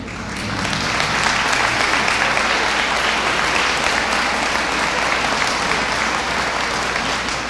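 An audience at a high school academic banquet applauds its athletes. The clapping is loud and steady and continues throughout without talk.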